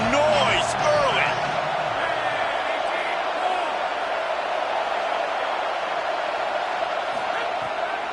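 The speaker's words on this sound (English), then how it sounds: "This crowd bringing the energy and noise early." Stadium crowd in a College Football video game, Louisville vs Penn State: a steady, loud wash of crowd roar under a commentator's voice, with a few whoops and a brief slam early on.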